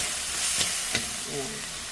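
Vegetables fry in olive oil with a steady, close hiss of sizzling. Two sharp clicks from a utensil break it up, all within a couple of seconds.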